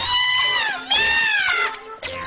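A kitten meows in a French-dubbed episode of the cartoon Mew Mew Power: a loud, drawn-out, wavering meow that dips and rises over about two seconds, voiced by a performer.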